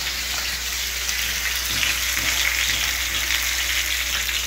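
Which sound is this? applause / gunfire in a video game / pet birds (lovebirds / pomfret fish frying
pomfret fish frying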